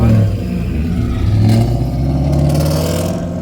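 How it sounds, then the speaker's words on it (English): A car engine drones and revs up close with a rough, rattling exhaust leaking at the joints, loud and continuous, rising and falling as it drives. "My exhaust is rattling all over the place. It's leaking."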